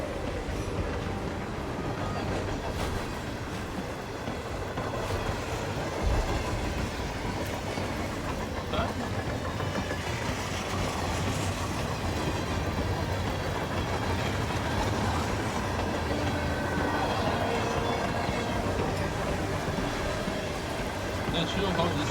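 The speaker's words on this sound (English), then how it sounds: "This is indeed a train." Train riding on rails in the video game Hitman 3, a steady continuous rumble of wheels on track with faint rhythmic clatter, running throughout at an even level.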